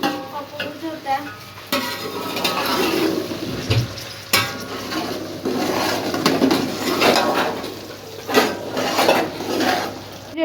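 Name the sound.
mixing spices in a cooking pot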